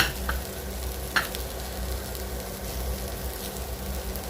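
Spices with Kashmiri chilli, coriander powder and garam masala sizzling in a pan for a spicy crab roast, a soft continuous fry hiss with a few brief stirring scrapes, fairly quiet and without talk.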